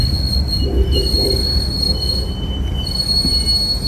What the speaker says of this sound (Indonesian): Ada kereta kuning.